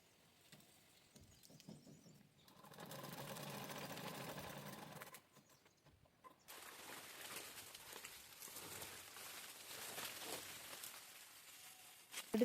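A domestic sewing machine stitching fabric, apparently areca palm sheath pieces being sewn along all four sides, runs in a steady whirring burst, pauses briefly and then resumes with a busier, rattling rhythm, close and moderately loud.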